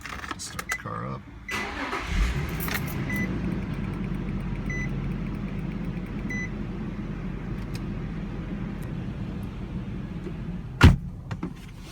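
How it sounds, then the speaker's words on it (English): A 2003 Infiniti G35 cranks briefly and fires up, then settles into a steady, rumbling idle that runs close and loud, with a few faint beeps and a sharp thud near the end. "Start the car up."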